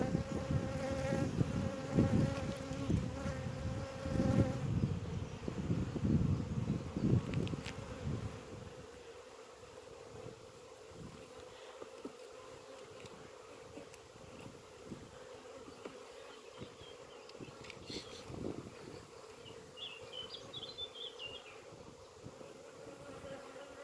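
Honey bees hum in a dense, droning buzz during an early summer inspection of a brood-and-a-half hive, louder for the first several seconds and then settling into a softer, steady hum.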